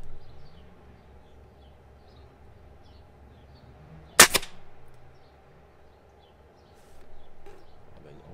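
A Stoeger XM1 20-joule air rifle fires H&N pellets at a 30-metre range, giving one sharp, loud crack midway through an otherwise quiet outdoor scene with faint background hum.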